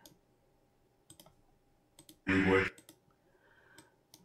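A computer mouse clicks several times as a video is edited in Magix Movie Edit Pro, sharp isolated ticks spread out near the mic, with one short burst of speech in the middle.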